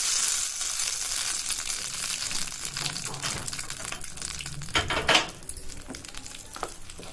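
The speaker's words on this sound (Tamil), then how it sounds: "கடுகு நல்லா பொரிஞ்சிடட்டும். இப்ப கருவேப்பிலை சேர்த்துருங்க." Mustard seeds and curry leaves sizzle in hot oil in a pan while tempering coconut chutney. A steady close hiss carries bursts of crackling pops and occasional stirring scrapes.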